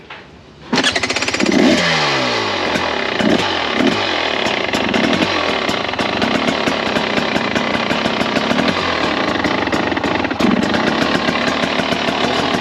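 A Yamaha YZ250FX dirt bike engine cranks once and then fires up, settling into a loud, buzzy, steady idle nearby with a few brief revs.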